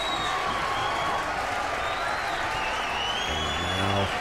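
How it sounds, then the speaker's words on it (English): Dense, sustained applause and crowd noise fill an indoor wrestling event as a match ends, with faint voices mixed in and a brief bump in volume near the end. "Crowd is really behind this one."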